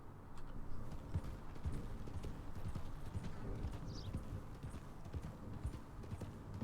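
Steady clip-clop of horse hooves trotting at an even pace in the video game Red Dead Redemption 2, close and continuous, over a low rumbling background.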